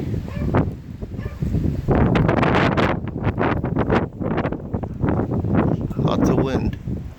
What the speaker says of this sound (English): Lots of wind.